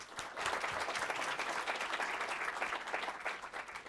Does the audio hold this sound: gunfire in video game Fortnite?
no